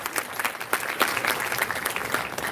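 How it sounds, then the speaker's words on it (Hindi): Crowd clapping at a Shivratri celebration, a continuous round of applause from many hands at moderate volume, fairly even throughout with little talk. "तालियां तो बजनी ही चाहिए।"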